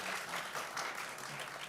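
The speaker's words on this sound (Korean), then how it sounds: "큰 박수 한번 부탁드리겠습니다." Faint, distant applause from an audience after a lecture at a leadership forum, a steady patter of many hands clapping for the whole brief moment.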